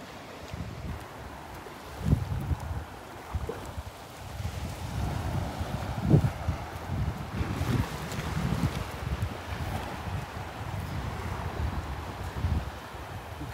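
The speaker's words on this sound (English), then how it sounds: "Just some little ripples breaking on the sandbar." Small ripples breaking on a sandbar at a Gulf beach, a soft continuous wash with gentle swells and light wind noise, moderately distant and steady throughout.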